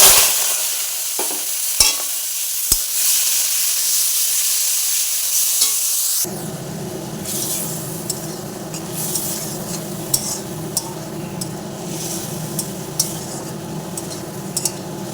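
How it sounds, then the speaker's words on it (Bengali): Shrimp coated in salt and turmeric hit hot oil left from frying potatoes in a wok, setting off a loud, steady sizzle with a few sharp clinks early on, then a busier crackle as the pieces are stirred. "এবার আমি ওই তেলের মধ্যে দিয়ে দিচ্ছি নুন হলুদ দিয়ে রাখা চিংড়ি"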